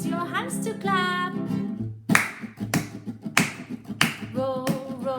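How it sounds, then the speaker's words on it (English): Hands clap along to the nursery rhyme Row, Row, Row Your Boat, sharp, close claps landing in an even beat after a few sung notes. "Now let's use your hands to clap."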